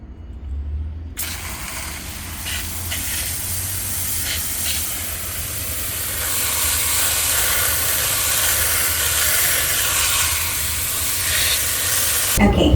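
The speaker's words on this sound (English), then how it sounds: "I'm just going to take this outside and rinse the roots off." Water sprays steadily outdoors from a hose, rinsing soil off the roots of an Alocasia plant. A sustained, broadband hiss starts after about a second and holds fairly loud and even to the end.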